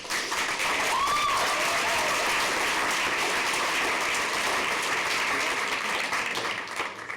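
An audience at a school district governing board meeting bursts into sustained applause, a dense wash of many hands clapping at steady volume that fades slightly near the end.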